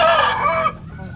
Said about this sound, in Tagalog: mini farm ng mga manok, ng mga shamu. Yung mga malalaking manok.